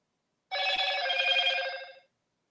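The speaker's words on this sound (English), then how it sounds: "Sorry, that was my phone." A telephone rings once in a single electronic trill lasting about a second and a half, clear and moderately quiet, then cuts off into silence.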